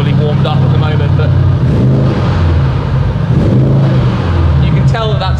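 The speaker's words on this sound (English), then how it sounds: "Burbling and burbling away, exactly as it should be." A deep Audi RS6 engine, not fully warmed up, burbles steadily at idle, a low rumbling throb heard beneath someone talking throughout.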